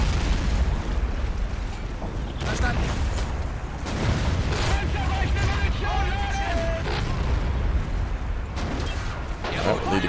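Men of War: Assault Squad battle with an AT gun destroyed by an explosion: dense, sustained rumbling blasts and booming battle noise fill the scene, with scattered bursts and whining tones layered on top and steady loudness throughout.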